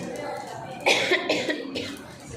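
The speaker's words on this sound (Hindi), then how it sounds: "खांसी भी बहुत हो रही है" A person coughs a few times in quick succession, a short harsh burst followed by smaller coughs, close and fairly loud over faint background noise.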